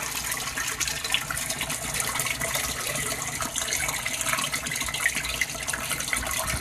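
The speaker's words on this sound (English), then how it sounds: "by propelling itself into the water, it's breaking the surface and disturbing it and oxygenating the water also" Water pours steadily into an aquaponics barrel tank, a constant close splashing gush that breaks and churns the surface, with no talk over it.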